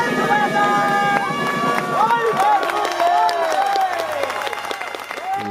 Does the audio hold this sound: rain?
no